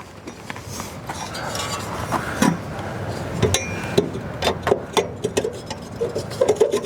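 A metal flue slid back into an Attwood RV furnace during a blower motor replacement, giving a string of close metallic clinks, taps and scrapes that grow busier toward the end.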